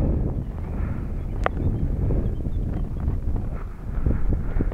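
Cold, gusty wind blows outdoors at an F5J electric glider competition in Brüggen-Schwalmtal, northwest Germany, after an Arctic cold front. It makes a steady low rumble and buffeting against the microphone throughout, with no talking.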